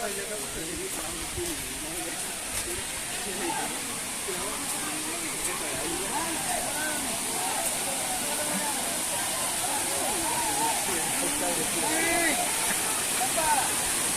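Ogi Waterfall pouring in a steady broadband rush, a constant hiss-like roar that holds level throughout with a few faint voices and small sounds mixed in.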